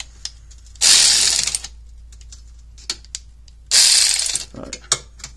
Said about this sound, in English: we are going to go ahead and run these trans mount bolts tight